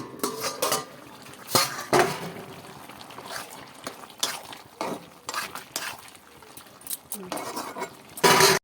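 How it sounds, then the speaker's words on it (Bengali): A metal lid lifted off a cooking pot of prawn curry, with a series of sharp clanks and scrapes of metal against metal and some soft stirring and trickling between them, close and fairly loud. "এবার আমি ঢাকাটা সরিয়ে নিচ্ছি"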